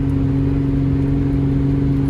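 A car on a test drive holds a steady mid-pitched engine drone with strong tonal hum as it pushes past 60, constant and close from inside the cabin, with no talk.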